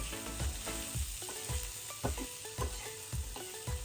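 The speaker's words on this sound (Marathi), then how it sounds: "कांदा आहे ना आपण चांगला फ्राय करून घ्यायचा आहे।" Onion, garlic and ginger fry in hot oil for a Konkani-style chicken rassa, a steady close sizzle broken by repeated scraping strokes of a spatula stirring the pan.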